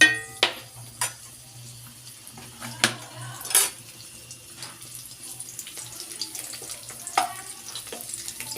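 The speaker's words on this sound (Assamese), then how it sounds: "এতিয়া প্ৰথমতে মই শুকান জলকীয়াটো দিছোঁ, আৰু এতিয়া মই ইয়াত নৰসিংহ পাত দি দিছোঁ।" Dry chillies and curry leaves fry in a pan and are stirred, giving a quiet sizzle broken by scattered sharp clicks and scrapes of the utensil against the pan.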